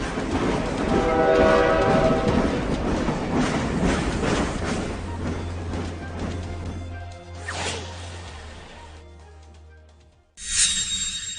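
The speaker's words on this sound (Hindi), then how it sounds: "यहां से भी आज पहली ट्रेन दिल्ली के लिए रवाना होने वाली है।" Train departing from Patna's Rajendra Nagar terminal toward Delhi, with loud rail rumble and clatter, a long low horn blast in the middle, then a fading roll and a sharp hiss near the end.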